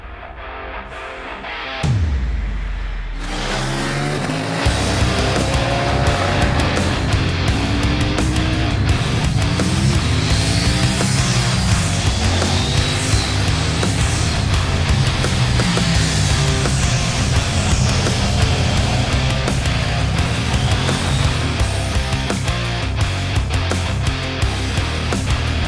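2021 KTM 890 Duke motorcycle ridden on the road, its engine note loud and continuous after a brief start, with repeated revving and gear changes over steady wind and road noise.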